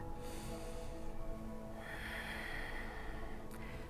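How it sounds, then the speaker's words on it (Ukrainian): Slow breathing in and out while holding the cobra pose (bhujangasana) in a gentle yoga session for the back and hips: a steady, close, continuous airy breath with no talking. "Вдих, видих тут."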